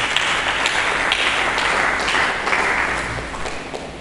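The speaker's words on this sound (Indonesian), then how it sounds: "Mari kita berikan tepuk tangan." Congregation at a church sermon breaking into sustained applause, a dense wash of many hands clapping at once, loud and steady, gradually tapering near the end.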